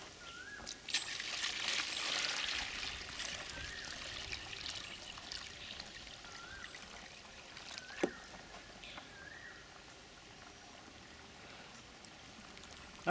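Water pours into the internal reservoir of a GreenStalk stackable vertical planter tower, a fairly loud splashing pour at first that settles into a softer trickle and dribble, with no voices.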